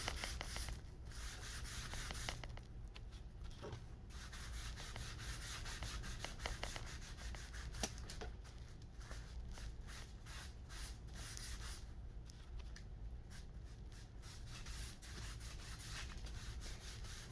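Wax is rubbed over painted foam board to make faux wood, giving a faint, continuous scrubbing and rubbing texture with quick back-and-forth strokes, close up and with no voices.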